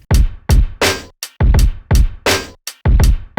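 Boom bap drum beat built from stock sounds, with punchy kicks and crisp snares in a loud, steady, looping pattern. It plays alone, with no talking.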